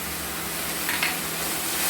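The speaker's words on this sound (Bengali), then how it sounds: "সেই পেস্টটাকে দিয়ে আমরা ভালো মতো করে কষে নেব" Garlic, onion and chili paste with cumin, coriander and turmeric powder sautéing in a pan, giving a steady soft sizzle and hiss with a faint stirring scrape, no voices.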